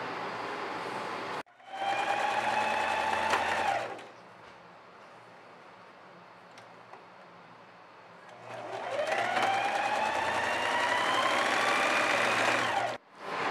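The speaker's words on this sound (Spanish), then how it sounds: "Vamos a realizarle la costura con overlock para luego colocarla acá." Overlock sewing machine stitching a sleeve for a girl's outfit, two loud close bursts of rapid whirring stitching, each winding up in pitch, separated by a quiet pause.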